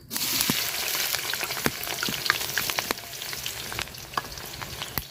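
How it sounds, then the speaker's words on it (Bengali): Onions fry in hot oil for a chicken curry, crackling and sizzling steadily up close, with scattered sharp pops and a few stirring scrapes and no voices. "তো তেল দিয়ে দিলাম মাংস রান্না করার জন্য তেল গরম হয়ে গেছে পেঁয়াজ দিয়ে দিলাম"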